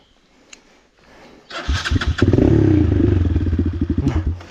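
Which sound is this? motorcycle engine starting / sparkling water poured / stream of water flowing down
motorcycle engine starting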